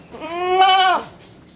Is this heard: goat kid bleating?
yes